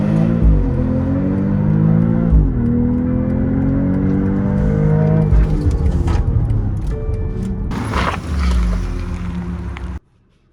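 A BMW X3 M40i pulls away hard under launch control, its engine note rising through strong harmonic sweeps, dropping briefly at each gear change and building again, loud and close, before cutting off abruptly near the end.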